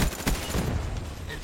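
Rapid gunfire in Call of Duty crackles in a short, loud burst of overlapping shots with a heavy low thump at the start, briefly filling the moment.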